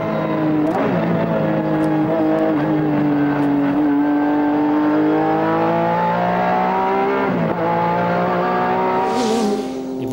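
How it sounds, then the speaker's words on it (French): A Honda NSX GT racer at the 1994 Le Mans 24 Hours screams down the Hunaudières straight, its loud engine note holding high and steady, dipping briefly as it shifts gears, with the roar fading near the end. "au volant de la Honda NSX dans la ligne droite des Hunaudières. Je vous laisse apprécier le spectacle."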